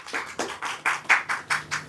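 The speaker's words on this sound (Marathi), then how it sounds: "जोरदार टाळ्या झाल्या पाहिजेत मान्यवरांसाठी." Clapping rings out as dignitaries are called onto the stage at a seminar, a quick run of about eight evenly spaced, fairly close claps with no voices over them.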